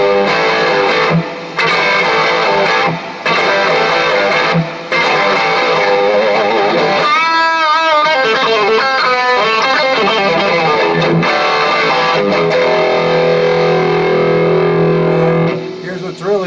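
A single mixer channel in a home studio with a delay effect added, playing continuously and loud with repeating echoed tones, pitch sweeps through the middle, and brief dropouts early on.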